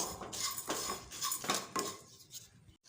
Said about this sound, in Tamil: அவள் கொஞ்சம் வறுபட்டு வரட்டும்